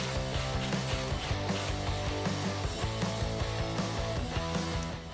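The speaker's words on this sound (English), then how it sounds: "I'll tighten it down just a little bit just to hold the bracket in place" A hand ratchet clicks rapidly and steadily while snugging bolts on a seat bracket in a Mustang, the close, continuous pawl chatter running for several seconds with no talking.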